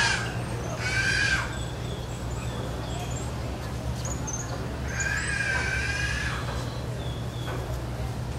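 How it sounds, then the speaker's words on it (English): A blue and red macaw at Parrot Jungle gives harsh, raspy squawks: one short call near the start and a longer, drawn-out one midway, set against a soft outdoor background with fainter birds. "It's a blue and red macaw."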